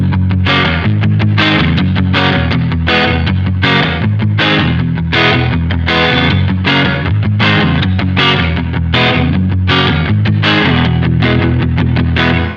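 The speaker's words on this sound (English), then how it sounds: "So we're on the room setting for the reverb, which sounds like this." Guitar run through a digital reverb and ambience pedal on its room setting, strummed chords in a steady rhythm with a short roomy tail, played loud and alone with no talking.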